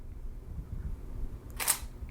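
A single-lens reflex camera, set to manual focus, fires one crisp shutter click near the end of a short, quiet stretch with low room hum.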